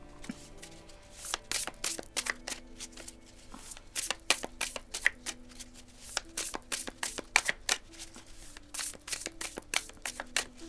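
Tarot cards being shuffled for a reading, a fast series of crisp riffling and slapping card sounds, close and fairly quiet, with no talk over them.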